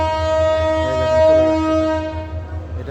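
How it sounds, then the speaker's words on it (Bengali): A train at Dhaka railway station, bound for Chittagong, sounds a long steady horn over the rumble of the carriages as it prepares to depart. "ট্রেনটা এখন ছেড়ে দেবে"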